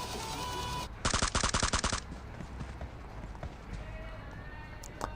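Rapid automatic M4 rifle fire in a video game, a burst of about ten sharp shots in quick rhythm, loud and close, after a stretch of steady background ambience.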